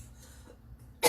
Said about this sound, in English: The oil spray always makes me cough.